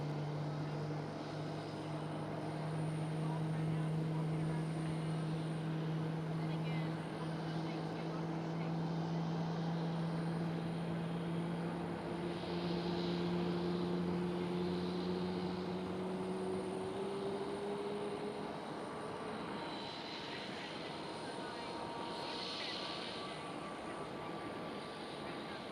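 A KLM Boeing 737-700 at Schiphol Amsterdam, a steady distant jet engine drone with slowly shifting tones, moderately faint, under a faint background of voices.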